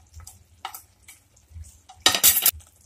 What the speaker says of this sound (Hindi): अब मैं इसको स्टर कर लेती हूँ